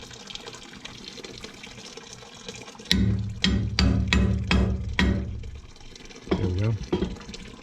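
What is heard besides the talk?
water and gunk flushing from a steam trap strainer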